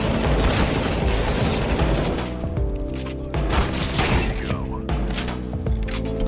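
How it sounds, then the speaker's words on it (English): Rapid automatic gunfire and heavy booms from the Counter-Strike video game, loud and dense at first, then breaking into bursts of shots and thuds with a garbled voice partly buried underneath. "half of Valeria's speech got garbled by gunfire"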